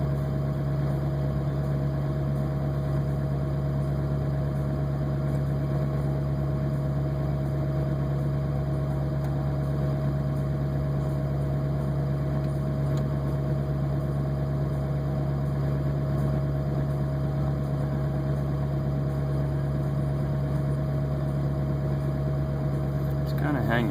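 A diesel engine idles after a Power Service Diesel 911 fuel treatment, a steady, even low drone with a constant tonal hum that holds unchanged and fairly loud from start to finish.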